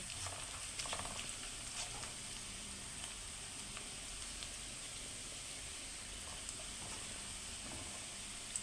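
Onions with a little sugar frying in a pan, a soft, even sizzle that holds steady and fairly quiet throughout, with no voices.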